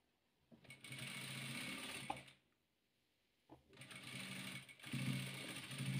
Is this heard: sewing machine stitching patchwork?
yes